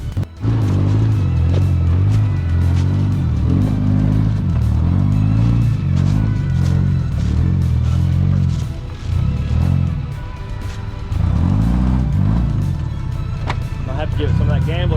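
A stock Subaru crawling over a rock on a mountain off-road trail at Windrock Park, its engine droning and rising in uneven revs with clatter, loud and close, with people talking over it.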